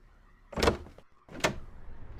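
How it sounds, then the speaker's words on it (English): A door creaks and thuds open in the horror game Banshee's Last Cry, two distinct swinging bursts close by with a brief pause between them. "He started to open the door."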